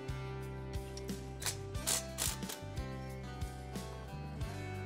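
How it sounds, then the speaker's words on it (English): A 9/16 socket wrench ratcheting while removing a winch from a power lift kit on an Oscar 330, heard as close, repeated clicking ratchet strokes over a steady mechanical hum. "9/16 socket wrench. Come in from the back side is the easier way."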